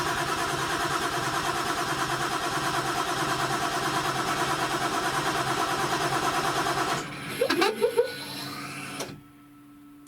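A Toyota 1JZ engine cranks over with a rapid, steady rhythmic churn for several seconds, struggling to start, then cuts off into a few clunks and near silence.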